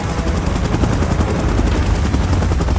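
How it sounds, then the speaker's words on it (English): A helicopter in the PUBG Mobile video game, with a dense, steady rotor roar filling the whole stretch, loud and close, with no voices over it. "Chopper in position."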